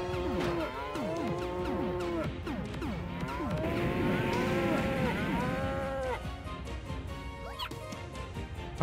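Cartoonish cow moos from the Sega CD game Keio Flying Squadron repeat over and over, overlapping one another in a dense, loud chorus atop busy game music and effects.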